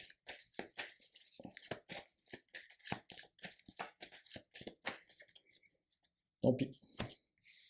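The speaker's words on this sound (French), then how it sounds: "il y a un mélange de deck" A deck of playing cards for a Marvel Champions card game is shuffled in a rapid, steady run of close, crisp riffling clicks. A voice speaks briefly near the end.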